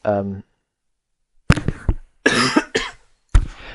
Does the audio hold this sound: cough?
yes